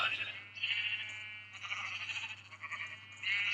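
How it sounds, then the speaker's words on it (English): Sheep bleat in a Minecraft-style video game on the SchmickCraft server near a castle, a few wavering bleats that repeat and overlap across the whole clip, moderately loud and close, with no talking. "It's like the start of Sheep on Pink Floyd Animals."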